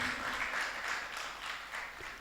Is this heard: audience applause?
yes